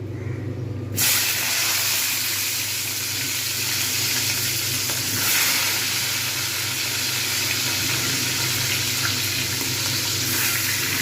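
Rohu fish heads go into hot oil and erupt into a loud, sustained frying hiss with crackle and spatter, holding steady and close for the rest of the stretch without speech.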